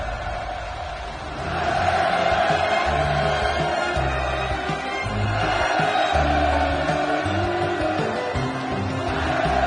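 Large crowd at a North Korean navy destroyer launch ceremony cheering and shouting in a sustained roar that swells after a few seconds and stays dense and loud throughout.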